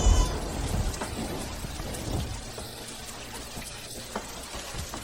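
Rain pouring at night over a slippery road, a dense, steady wash of drops with a deep rumble of thunder at the start that fades into the downpour, no voices.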